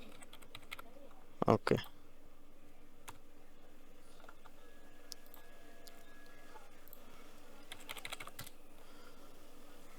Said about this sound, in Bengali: রি এন্টার পাসওয়ার্ড টু কনফার্ম